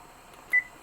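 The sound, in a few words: kitchen timer button beeps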